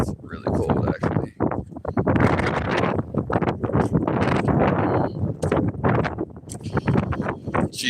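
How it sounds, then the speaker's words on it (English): Gusty wind buffets an outdoor microphone on a cold day, a loud, continuous broadband rumble and flutter that fills the whole stretch and covers any voice. "It's windy."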